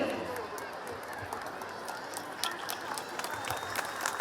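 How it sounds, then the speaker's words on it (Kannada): Parents and audience at a school cultural fest clap for the children, a steady wash of crowd applause with scattered sharp claps from a large hall. "ಎದ್ದು ನಿಂತು ಚಪ್ಪಾಳೆಯೊಂದಿಗೆ ಆ ಮಕ್ಕಳನ್ನು ಅಭಿನಂದಿಸಬೇಕು"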